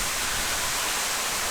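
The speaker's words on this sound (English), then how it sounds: "So this is waterfall number 2" A jungle waterfall in Sumatra, Indonesia, roars as a steady, dense wash of broadband rushing water, even and close, with no voices.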